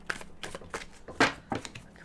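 Tarot cards being shuffled by hand, a series of quick riffling bursts and soft slaps repeating in an uneven rhythm, close and clear with no talk.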